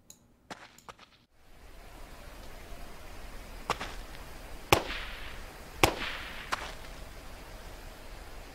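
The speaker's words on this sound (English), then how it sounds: "Yeah, there's shots by our base." Gunfire in the survival game Rust, a few sharp distant cracks spaced irregularly over a faint noisy background.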